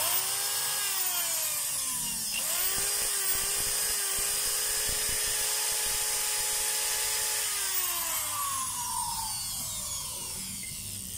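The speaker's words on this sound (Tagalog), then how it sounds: "So ang model nito mga kabay, DWD01438 na drill na DeWalt" A DeWalt DWD014 electric drill with a faulty, heavily sparking motor runs continuously, its pitch rising as it spins up and gliding down as it slows near the end, loud and close with no talk.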